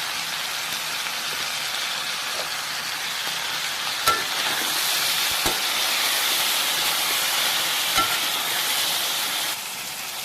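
Potatoes and vegetables fry in a pan with oil and cumin, giving a steady close hiss and sizzle, with a few sharp clicks from stirring.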